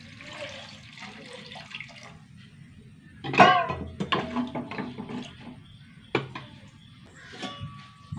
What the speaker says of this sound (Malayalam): വെള്ളം ഒഴിച്ച് കൊടുക്കാം കേട്ടോ